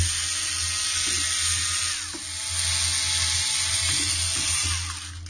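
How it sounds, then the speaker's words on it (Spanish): A small electric screwdriver whirs loudly and steadily as four gold-colored screws are backed out of the power supply inside a fat PlayStation 2 console, its high whine broken by brief pauses and light metallic clicks. "Se quitaban estos 4 tornillos de color dorado."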